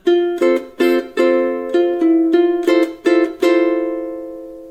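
Ukulele plucking two bars of a melody, a run of about ten clear picked notes in a steady rhythm, close and alone, with the last note left ringing out.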